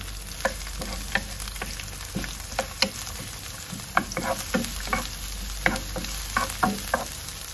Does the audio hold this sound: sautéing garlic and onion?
yes